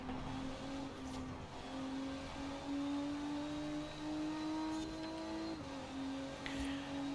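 A quick car laps a race track, its engine a distant steady drone that rises in pitch over several seconds, drops briefly and climbs again, faint and with no talk.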